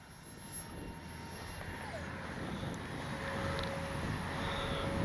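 An X-Fly J-65 twin 40 RC jet flies overhead with a steady, continuous turbine roar and a thin whine that dips in pitch partway through, holding level and unbroken without any voices.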